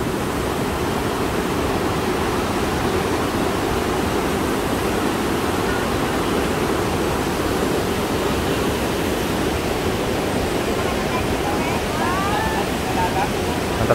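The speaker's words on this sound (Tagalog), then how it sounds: "Dito yung daanan ng mga tubig." Water rushing through the channel at Wawa Dam in Rodriguez, Rizal, a steady broadband roar that stays loud and unbroken throughout.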